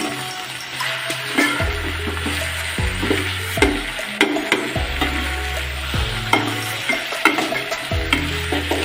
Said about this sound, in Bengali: লতিগুলো একটু ভাজতে হবে,